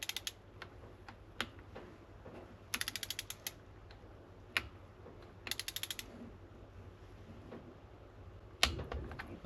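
A hand wrench ratchets in quick bursts of clicks while Honda XR80 big bore head bolts are torqued to spec, separated by single sharp ticks and a louder clunk near the end, close and alone.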